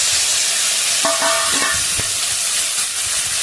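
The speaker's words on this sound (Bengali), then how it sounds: "তেলটা গরম হয়েছে, চিংড়ি মাছটা দিয়ে দেবো।" Prawns frying in hot oil in a wok give a steady, close hiss of sizzling, with a few brief clinks and stirring knocks partway through.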